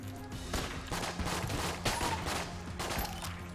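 Rapid gunfire in the Enter the Gungeon video game, dense bursts of repeated shots rattling almost without pause, loud and alone.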